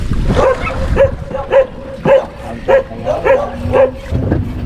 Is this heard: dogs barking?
yes